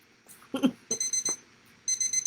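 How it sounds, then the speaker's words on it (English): A small 30-minute kitchen-style timer alarm goes off in short bursts of bright beeping, two clusters separated by a pause, fairly clear in a quiet room. "Okay, we got my little 30-minute timer."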